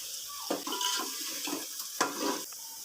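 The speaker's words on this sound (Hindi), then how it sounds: "अब हम इसमें 2 मीडियम साइज़ के टमाटर ऐड करेंगे और हम 5 मिनट तक इसकी भुनाई करेंगे" Two medium tomatoes fry in spiced oil for black chana, making a soft, continuous sizzle with wet stirring bursts, faint and close.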